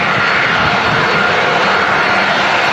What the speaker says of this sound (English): this aircraft's off to Kos in Greece